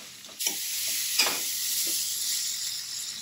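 A spatula stirs vegetable korma with salt, turmeric and garam masala in a hot pan, giving a close, steady sizzle with a few scraping knocks near the start and no speech.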